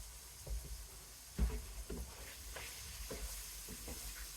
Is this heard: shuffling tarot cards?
no